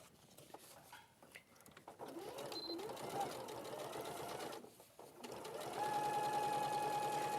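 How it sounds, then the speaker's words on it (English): A sewing machine stitches three sides of a folded side pocket, running in a steady whir for several seconds, pausing briefly, then starting again louder, with people talking over it. "I can sew 3 sides,"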